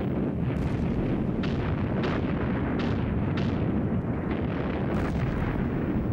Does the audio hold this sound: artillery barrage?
yes